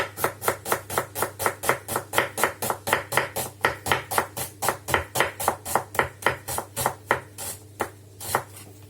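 An onion chopped with a knife on a cutting board: a fast, steady run of roughly thirty sharp chops at an even rhythm, close and prominent, slowing to a few final strikes at the end.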